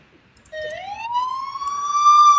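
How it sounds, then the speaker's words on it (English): A siren sound effect, used as a troll alert on a livestream, rises in a clean wailing sweep and holds a loud, steady high pitch, with no talk over it. "Folks, are you hearing that siren?"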